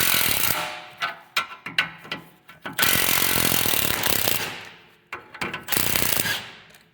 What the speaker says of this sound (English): I'm going to start by removing the U-bolt nuts.